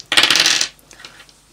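Two dice tossed onto a table during a board game give a close, sharp clattering burst, then settle with a few faint small taps; no one speaks.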